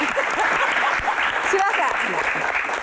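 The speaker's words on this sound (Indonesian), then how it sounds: "Tepuk tangan untuk kita semuanya." An audience at an evening talk show event claps steadily and fairly loudly throughout, a dense continuous patter of many hands with a few voices mixed in.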